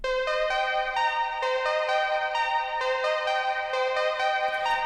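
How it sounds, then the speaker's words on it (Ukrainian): A slow synth arpeggio drenched in vintage-style reverb, its stepped notes ringing steadily and evenly for about five seconds, alone and without voices. "І наш третій інструмент це ще одне арпеджіо, яке зроблене трошки по-іншому"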